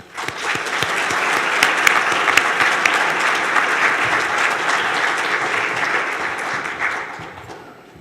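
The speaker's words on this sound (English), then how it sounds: "Please join me in welcoming them with a round of applause" A large crowd applauds steadily for about seven seconds at a university master's hooding ceremony, a dense even clatter of clapping that fades out at the end.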